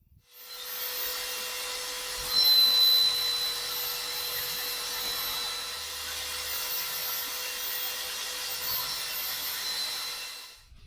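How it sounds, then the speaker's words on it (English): A power tool whirs steadily while trimming and shaping the edges of a leather sheath for a 4½ lb Arvika Tasmanian pattern axe, a continuous close drone that swells briefly early on, with no talking. "I might just trim part of that flap and then we'll shape the edges."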